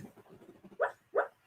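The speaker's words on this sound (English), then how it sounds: "She's barking in her sleep." A female dog barking and whimpering in her sleep indoors: muffled whimpers and low huffs, then two short, louder muffled barks close by, with no talking.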